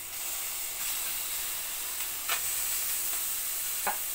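Small slices of pork belly (liempo) sizzle steadily in a hot pan, a bright, continuous hiss with a couple of sharper crackles and pops along the way.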